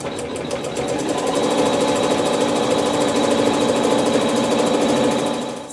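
Domestic sewing machine stitching quilting on a Dresden quilt block, running steadily and close with a rapid, even needle rhythm for about five seconds, no voices.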